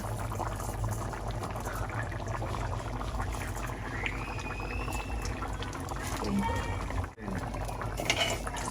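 Fenugreek seeds frying in hot oil in a pan for crab curry, a steady dense sizzle and crackle that runs throughout with no talk over it.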